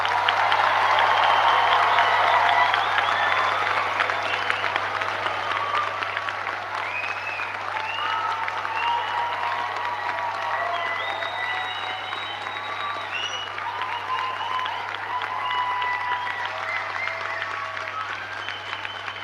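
A graduation audience of nursing and midwifery graduates and guests claps in a sustained round of applause, loud at first and then holding steady as a dense crackle of many hands with some cheers.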